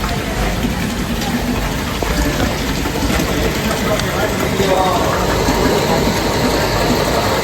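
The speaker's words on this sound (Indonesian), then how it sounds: "Di sini kami akan melakukan pengetesan RPM dan suhu pada pompa listrik ini" An electric water pump runs steadily during an RPM and temperature test, giving a loud, constant motor drone with a broad hiss and no pauses; speech is faintly present.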